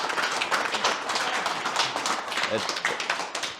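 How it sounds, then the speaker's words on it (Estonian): Audience applause at a talk on Estonian windmills, a dense, continuous patter of many hands at steady loudness, with a voice briefly audible partway through. "Jah, aplaus."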